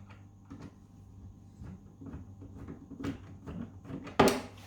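A damaged hinge is worked loose from a kitchen unit's cabinet door, giving a string of close, soft knocks and clicks that end in a sharper clatter near the finish, with no talking.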